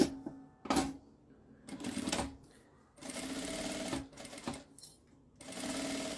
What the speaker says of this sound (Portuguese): Vou passar uma costurinha em cada beiradinha também